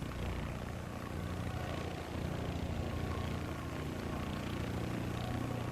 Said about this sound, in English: Comanche sounds like a mosquito.